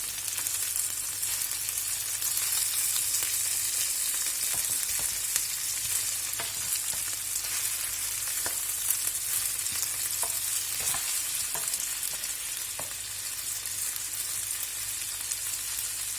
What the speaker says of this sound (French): j'ai réduit le feu. J'ai poussé les oignons pour pas qu'ils crament.